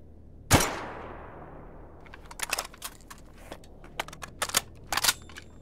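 A single loud gunshot from a gun in STALKER Anomaly cracks close by and trails off in a short decay, followed by a series of lighter metallic clicks and clacks of handling the weapon.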